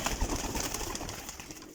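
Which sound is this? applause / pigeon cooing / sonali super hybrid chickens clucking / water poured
pigeon cooing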